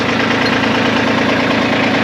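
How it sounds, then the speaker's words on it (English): A Kubota tractor fitted with a BH77 backhoe idles close by, a loud, steady diesel chug with a fast even knock and no change in pace. "Hopefully you can hear me over the tractor noise."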